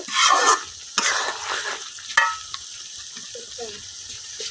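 Chicken being sautéed bhuna-style in a pan, a fairly quiet sizzle with a few sharp scrapes and clinks of the spoon against the pan, faint talk underneath.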